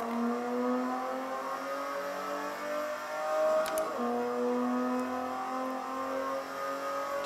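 A VW Scirocco race car on the Hockenheimring slows, then accelerates hard through a corner. The engine note holds loud and steady, dips briefly as it brakes and downshifts, then climbs again as the car pulls away.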